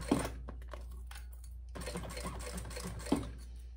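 A sewing machine stitches a crystal transfer bag in short bursts of rapid mechanical clatter, with a pause in the middle and small clicks at the start and end.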